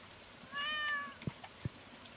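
A house cat gives a single clear, tonal meow close by, followed by two soft dull thumps in an otherwise quiet room.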